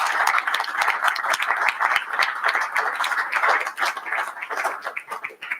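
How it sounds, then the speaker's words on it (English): Applause from a borough council chamber meeting, thanking a departing officer for her service: steady dense clapping from a modest group, sustained throughout and fading slightly at the end. "can we just give her a big round of applause for her service?"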